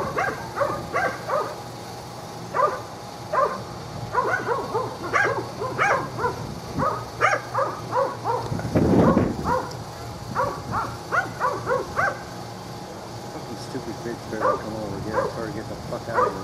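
A dog barks and yips in short repeated bursts throughout, moderately close, mixed in with people talking nearby.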